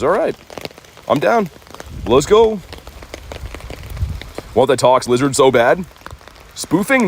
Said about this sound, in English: I'm literally standing in a rainstorm outside to do this.